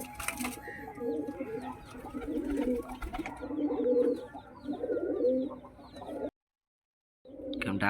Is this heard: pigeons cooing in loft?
yes